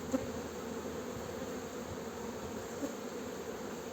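Honey bees hum steadily around an opened hive during a spring inspection, a dense continuous drone close by with no pauses and no voices.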